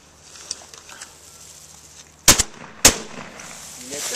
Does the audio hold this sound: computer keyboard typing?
no